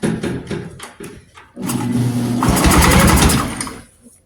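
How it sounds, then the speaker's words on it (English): A 1971 AMF Ski Daddler Mark IV snowmobile engine pulled over by a drill: a few short whirring bursts, then a buzzing motor revs up loudly, runs for about two seconds and fades. "I'm just going to use the drill to start it for now"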